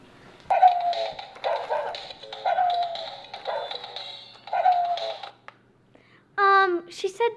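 Cartoon pug dog giving a run of short yippy, whimpering vocal bursts at a steady pace, close and clear, followed by a brief higher squeal at the end.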